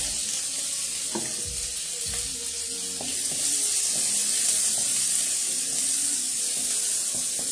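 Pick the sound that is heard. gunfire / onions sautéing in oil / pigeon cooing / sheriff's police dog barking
onions sautéing in oil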